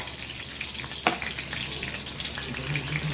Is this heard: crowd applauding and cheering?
no